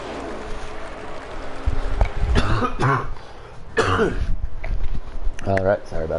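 A man coughs and clears his throat in a few harsh, close bursts during a gaming commentary session, with some voiced sounds between the fits and a low background hum.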